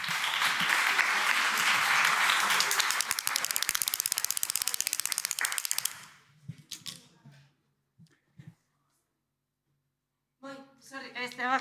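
A handheld clapping device produces rapid, loud mechanical clapping that rattles on for several seconds, then stops abruptly; quiet clicks and a voice follow.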